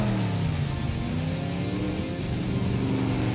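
A cartoon Hot Wheels race car's engine revs up and roars, a loud, close, continuous growl with rising pitch over a few seconds.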